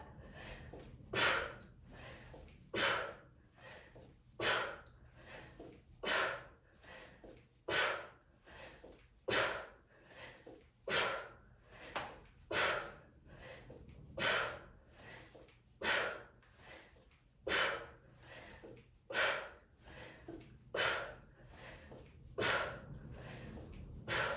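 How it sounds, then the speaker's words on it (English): Sharp, forceful exhales during a kettlebell workout, about sixteen puffs in a steady rhythm roughly every one and a half seconds, close and fairly loud with faint movement between them. "Exhale at the top."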